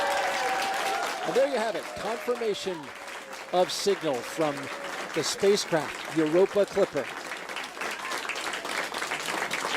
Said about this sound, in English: In the room there at the Jet Propulsion Laboratory erupting in applause.